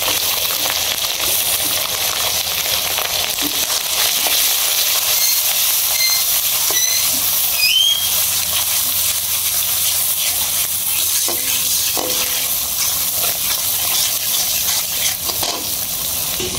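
Meat frying in a pan with onion, garlic, ginger paste, salt, turmeric and chili powder, giving a loud, continuous sizzling hiss with occasional faint stirring scrapes throughout.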